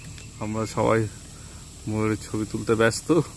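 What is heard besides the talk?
crickets chirping in the forest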